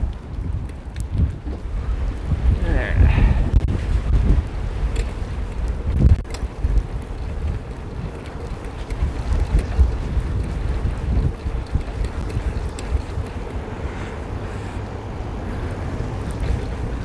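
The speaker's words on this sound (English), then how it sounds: "Darn you, wind." Steady wind rushing over the microphone on a bicycle ride through Cheyenne streets, a continuous low buffeting roar with gusts swelling and easing, no voices over it.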